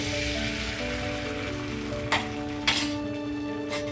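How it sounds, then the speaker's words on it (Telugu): An egg is cracked into a pan with a little hot oil on a stove, giving a steady close sizzle broken by two sharp taps. "స్టవ్ మీద పెనం పెట్టాను, కొద్దిగా ఆయిల్ వేసాను. ఇందులో 1 ఎగ్ తీసుకున్నాను. ఎగ్ పగలగొట్టి వేస్తున్నాను."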